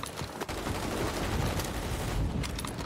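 Rapid, sustained gunfire from a battle royale video game, loud bursts of shots crackling continuously over a busy in-game firefight for the whole stretch.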